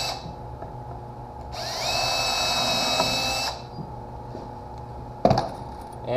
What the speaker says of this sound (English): Pre-drill the end here.